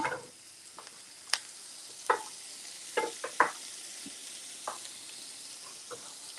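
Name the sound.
mushrooms sautéing in a pan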